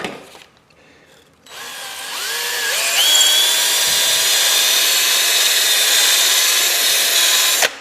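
A power drill whirs steadily while honing out a blind hole during brake work. After a short stop-start it spins up into a loud, sustained whine that holds for several seconds before cutting off.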